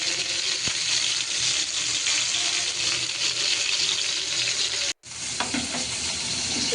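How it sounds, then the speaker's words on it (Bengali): Chicken pieces fry and sizzle steadily in a pan on a stovetop with occasional stirring, a dense continuous hiss close by that cuts out briefly near the end before resuming. "মুরগিটা ভাজা হচ্ছে।"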